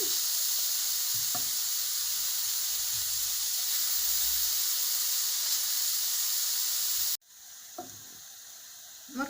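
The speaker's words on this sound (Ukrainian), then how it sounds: "Я туди додаю потерту морку на дрібній терці." Finely grated carrot with onion sizzles steadily in a pan over low heat, a continuous bright hiss with a few soft stirring clicks, briefly interrupted near the end.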